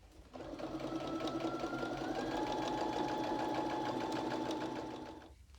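Sewing machine running one steady five-second topstitching pass along the elastic waistband of homemade boxer shorts, a close, even motor whir with rapid needle chatter, starting and stopping cleanly.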